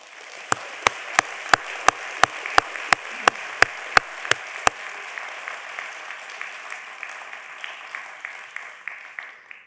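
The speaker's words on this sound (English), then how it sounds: "please, everyone, join me in a warm round of applause for their tremendous work" Applause from an audience at a Santa Monica State of the City civic event, with sharp rhythmic group claps at the start that loosen into a steady, fading patter of clapping from the crowd.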